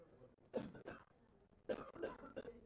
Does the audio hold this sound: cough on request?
yes